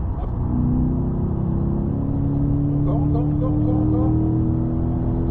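Race car on a circuit accelerating hard at full throttle, a loud, steady engine drone with rising pitch sustained throughout, with a voice speaking over it.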